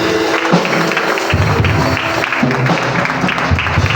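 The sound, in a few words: congregation applauding in church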